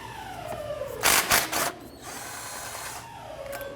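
A power tool whirs and ratchets while removing a 12mm bolt from the hydraulic timing-belt tensioner on a 2009-2015 Honda Pilot engine, a close motor whine rising in short loud bursts before easing off.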